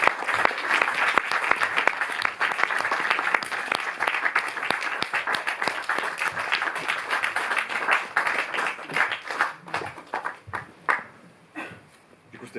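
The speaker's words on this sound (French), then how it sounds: "Vous pouvez les applaudir" Cinema audience at the Paris Cinémathèque applauding the director and guests of a short film screening, dense steady clapping that gradually thins and fades toward the end, with a few voices beneath.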